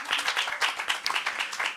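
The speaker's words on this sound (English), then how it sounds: "And folks, perhaps another round of applause for this momentous moment." An audience at a sponsorship event gives a brief round of applause, many hands clapping in a dense, steady patter, moderately loud and close.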